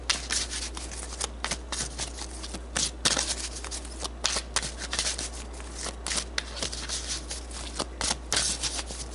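Tarot cards are shuffled close up for a card pull, giving a steady run of quick papery riffles, rubs and soft slaps that comes in uneven bursts over a low background hum.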